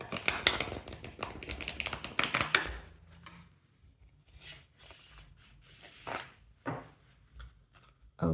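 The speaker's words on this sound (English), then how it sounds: "Just going to shuffle like this in order to refresh the deck from the previous energies." A tarot card deck being shuffled in quick bursts of papery riffles and taps, close up, with pauses of quiet between.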